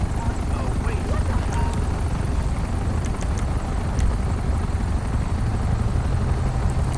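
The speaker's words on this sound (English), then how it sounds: "Look at this, we have all these news helicopters on him." Continuous rotor thrum of news helicopters hovering overhead in the video game GTA 5, a dense low rumble with scattered clicks and small noises on top, holding steady throughout.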